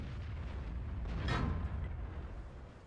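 In a World of Tanks battle with an M46 Patton, a single muffled cannon boom and ricochet off enemy armor rises briefly over a low engine rumble, fairly subdued in the mix.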